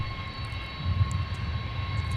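Jet engines roar steadily at Minneapolis–Saint Paul airport as an airliner passes, a loud continuous rumble with a faint high whine over it.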